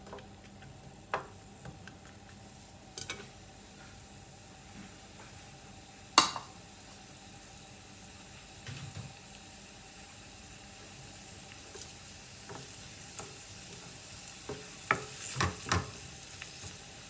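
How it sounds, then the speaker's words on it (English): Sliced onions fry in oil for an Anglo-Indian chicken curry, a faint, low sizzle broken by scattered clicks and scraping knocks of a utensil against the pan, with no talking. "We'll fry our onions very well."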